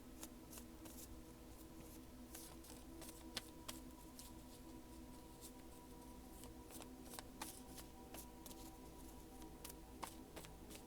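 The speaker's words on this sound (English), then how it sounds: "I'm just looking to see if there's anything else that needs to come out while I'm shuffling" Tarot cards are shuffled by hand in a quiet setting, giving repeated soft crisp riffles and flicks in an irregular rhythm, close and fairly faint, with no voices.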